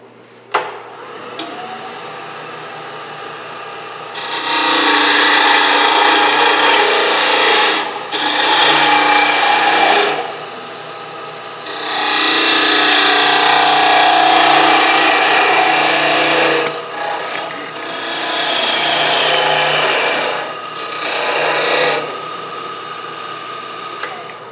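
Woodturning tool cutting a slightly concave surface on a spinning wooden hat, a loud close scraping rasp in several long bursts separated by short pauses.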